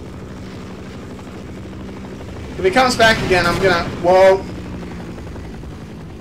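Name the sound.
helicopter flying in video game Half-Life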